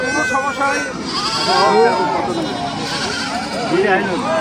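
A goat, one of those handed out to families, bleats a few times close by, the cries wavering over people talking nearby.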